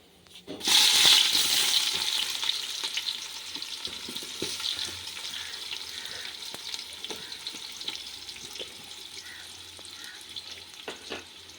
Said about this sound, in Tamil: பட்டை, லவங்கம் போட்ட பிறகு வெங்காயம் போடணும்.